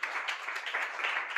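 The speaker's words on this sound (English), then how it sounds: "Please, with a clapping ovation, make welcome Dr. Opeyemi David Oke." An audience claps steadily to welcome a speaker at a conference, a dense, even patter of applause that holds at moderate loudness, heard from a middle distance.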